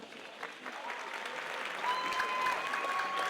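Audience applause at a high school Hispanic Heritage assembly, a dense sustained wash of clapping from a crowd that swells slightly toward the end.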